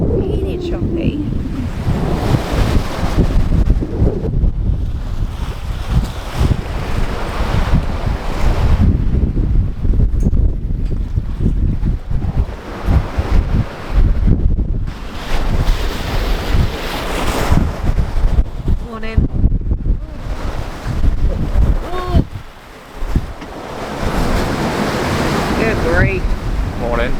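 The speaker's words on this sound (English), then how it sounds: "Bit rolly, isn't it? Yeah, the wind's picked up." Strong gusting wind batters the microphone while choppy Atlantic waves slosh and break around a sailboat in a storm at sea, a loud, continuous roar with uneven surges.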